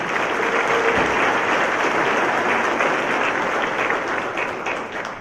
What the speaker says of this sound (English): Give everybody and yourselves a big round of applause.